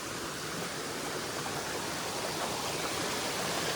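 A forest stream rushes through dense jungle toward Leki Falls, giving a constant, full-bodied wash of flowing water that holds steady and near from start to finish.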